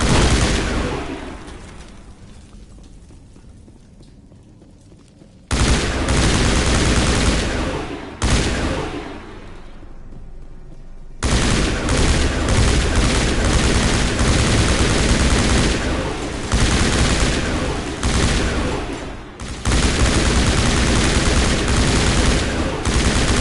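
Heavy gunfire from the video game Mass Effect 1, loud sustained bursts of rapid shots broken by a few short lulls, dense and continuous through most of the stretch.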